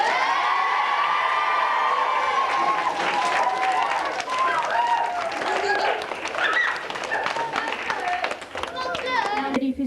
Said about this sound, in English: So please lads, give them a hearty round of applause.